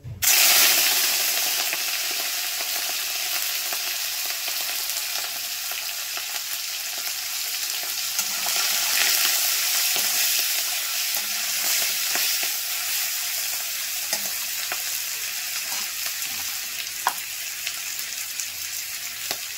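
Prawns sizzle in hot oil in a pan, a loud, continuous close-up hiss with small crackles and occasional stirring clicks, with no voices.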